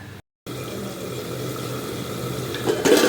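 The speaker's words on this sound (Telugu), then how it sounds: "ఇప్పుడు నేను దీంట్లో ఉడకడానికి వాటర్ వేస్తున్నానండి" Water poured steadily into a cooking pot of mutton bones for soup, a continuous close splashing fill that swells louder near the end.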